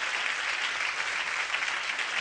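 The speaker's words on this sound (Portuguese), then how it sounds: "salve palmas para Jesus" A church congregation applauds during a worship service, a steady, close wash of clapping that stays even and sustained from start to finish.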